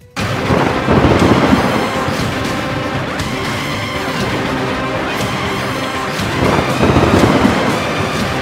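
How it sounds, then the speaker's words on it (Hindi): Torrential monsoon rain pours over flooded Sawai Madhopur in heavy, constant roaring noise, with deep thunder-like swells rising near the start and again toward the end, and no one speaking. "बारिश मूसलाधार"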